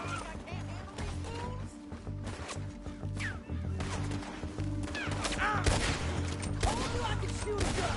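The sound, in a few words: gunfire in Red Dead Redemption 2 shootout, from a video game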